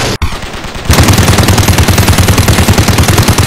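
Rapid automatic gunfire from the mobile police game Cop Simulator, a loud sustained burst of machine-gun shots in quick regular rhythm after a brief sharp opening crack.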